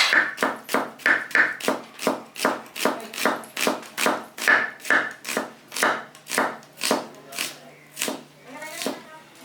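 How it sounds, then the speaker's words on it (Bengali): Onion being chopped with a knife on a board while making duck egg paturi, a steady run of close, crisp knife strikes that slows slightly toward the end, with no talk. "আমি পেঁয়াজ কুচিয়ে নিচ্ছি।"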